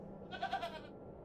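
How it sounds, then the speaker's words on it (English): A goat in the video game The Excavation of Hob's Barrow gives a single short, wavering bleat, faint and alone against a quiet background. "The goat's still here."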